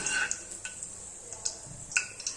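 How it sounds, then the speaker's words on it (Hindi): Whole coriander seeds roasting in hot ghee in a kadhai while making Punjabi sarson ka saag, giving a quiet, close sizzle with scattered sharp crackles and small pops every half second or so. "खड़ा धनिया को हम कुछ सेकंड के लिए गरम घी में भून लेंगे"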